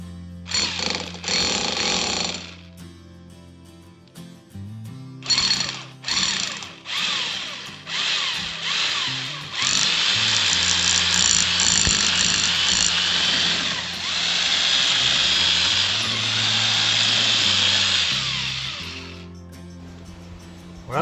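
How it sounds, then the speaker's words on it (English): Power drill boring a drainage hole through a concrete block, several short loud bursts at first, then a long sustained grinding run with the motor pitch shifting, no talking. "I've never drilled through this kind of concrete block type thing before"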